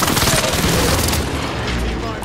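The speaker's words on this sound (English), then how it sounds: "Allied precision airstrike incoming." A heavy, sustained boom from an airstrike explosion in a video game rumbles loud and close throughout, with no clear talk.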